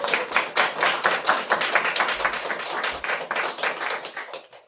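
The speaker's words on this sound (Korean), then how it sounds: "뜨거운 박수로 환영해 주시기 바랍니다." Energetic clapping from a room full of people welcoming a Democratic Party mayoral candidate in Namwon at a press conference, close and dense, tapering off at the end.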